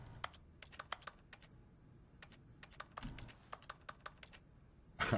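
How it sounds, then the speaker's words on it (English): Keyboard-like typing clicks sound whenever objects are interacted with in The Stanley Parable: Ultra Deluxe, arriving as quick irregular bursts of crisp, close keystrokes over a quiet background, with a louder rustling thump at the end. "Why does everything I interact with sound like a keyboard?"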